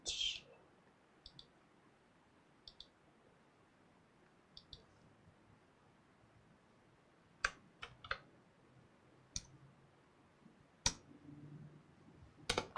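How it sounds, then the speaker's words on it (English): Sparse, sharp clicks on a computer keyboard beside an AMD Ryzen mini PC, coming in scattered single and double taps against a quiet background, with a faint murmur of voice underneath. "I gotta stop hitting the wrong keyboard."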